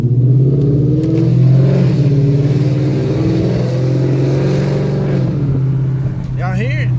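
Dodge Challenger fitted with new exhaust tips, its engine idling with a deep steady rumble up close and a small rev swell, while someone talks over it.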